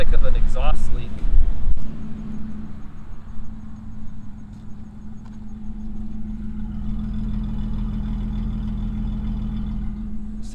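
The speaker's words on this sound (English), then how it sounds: "I think there's an exhaust leak on somewhere because I hear the static of an exhaust leak" A Pontiac Firebird engine idles steadily with a deep, even hum and a faint hissing static from an exhaust leak, close by, after a brief louder rev or knock at the start.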